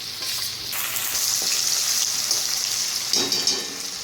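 Chopped carrot, cucumber and tondli (ivy gourd) fry in a pan with a loud, continuous close sizzle and a few scraping stirs near the end, with no voices.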